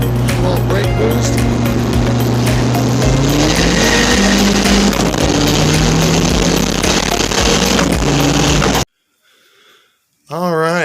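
A car engine held on the brakes to build boost from a billet HX35 turbo, revving loudly and steadily for about nine seconds before cutting off abruptly; a brief voice follows.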